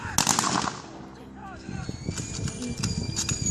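Single rifle volley fired in a trench-war era reenactment, sharp cracks and rattling reports up close, with a commanding voice shouting over the shots.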